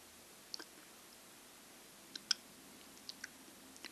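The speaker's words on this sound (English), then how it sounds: "I usually try and make as little mouth sounds as possible because I don't like it when people can hear me chew" Quiet, close mouth sounds come from someone eating dim sum: a few sparse wet clicks and chews scattered over a faint background, with no talking.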